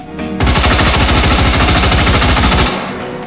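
An AR-15 rifle fires a rapid full-auto burst in the VR game H3VR, loud, sharp and close, about two seconds of evenly spaced shots that cut off abruptly, followed by a brief fading tail.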